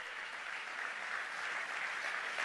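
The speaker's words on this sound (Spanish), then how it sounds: "Le da un aplauso al Señor." A church congregation applauds during a Spanish-language sermon, a faint, steady patter of clapping from across the room.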